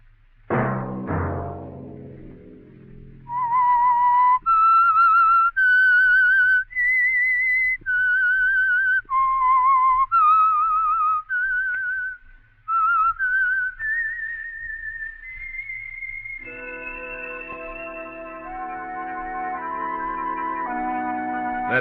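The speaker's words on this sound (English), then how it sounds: "Let that whistle be your signal for the Signal Oil program, The Whistler" A solo whistler performs the theme signal of The Whistler, a 1951 radio drama: a short decaying chime, then a clear melodic run of sustained whistled notes that rise and fall, ending in a held tone over a soft backing chord.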